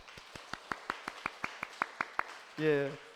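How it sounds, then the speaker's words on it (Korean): Clapping in a church, about a dozen crisp, evenly spaced claps in a steady rhythm, each a separate sharp slap rather than a dense wash, followed by a voice speaking. "우리 박수 한번 드릴까요?"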